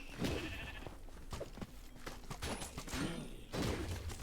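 Sheep bleating in the Minecraft Dungeons video game, a few short bleats repeating over busy game sounds and combat noise, fairly close and moderately loud.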